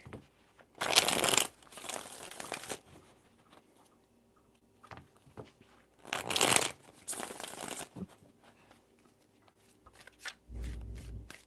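Tarot cards are shuffled in three distinct bursts of rapid riffling, close and crisp, separated by quieter handling sounds and pauses.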